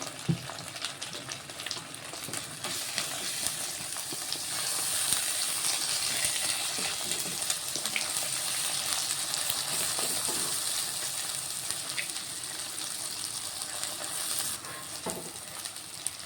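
Egg with ginger-garlic paste and turmeric frying in a pan for egg noodles, a steady bright sizzle running throughout with occasional stirring scrapes, close and continuous without talk.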